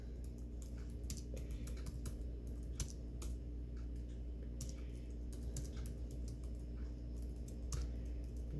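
Rapid, quiet keystrokes on a laptop keyboard tap in a continuous irregular stream of light clicks, close to the microphone in a quiet room.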